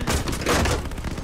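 Gunfire during a Call of Duty Vanguard campaign battle, a short volley of overlapping rapid shots, loud and dense, with no talk.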